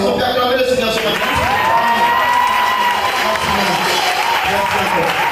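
A congregation at a church service applauds and cheers to acclaim the Lord, a dense, steady wash of clapping and crowd voices that holds at full loudness throughout, with people calling out over it.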